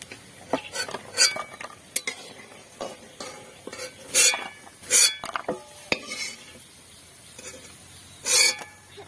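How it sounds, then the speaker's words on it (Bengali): Sago fritters frying in oil, with repeated sharp clinks and scrapes of a utensil stirring and turning them in the pan over a faint sizzle, and no talk. "কটা ভাজা হয়ে গেলে হয়ে যাবে"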